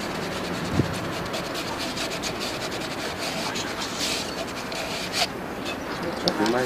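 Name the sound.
sanding the ends of pipes and fitting sockets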